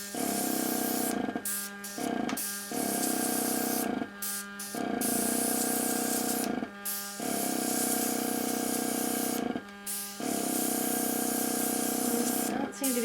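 An airbrush sprays ink over a heart stencil for cardmaking, giving a steady close hiss in repeated bursts of a second or two, separated by short pauses, with a faint hum beneath and talking at times.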